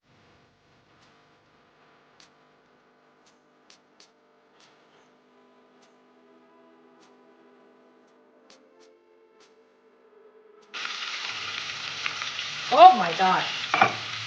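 Rice with mint and sun-dried tomatoes starts frying loudly in a pan after a long near-silent stretch, with crackling, sizzling and stirring. A brief exclamation comes over the frying.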